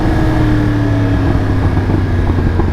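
A Yamaha R1 sport motorcycle engine revs hard in a steady, loud drone that holds near the listener and then builds. A sustained hum with a slight roughness stays alone without speech.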